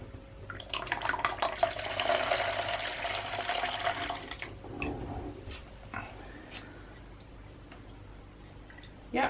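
Cold tap water running into a jug for bread dough, a steady close splashing stream for a few seconds that then tapers into quieter trickles and clinks, with no talk.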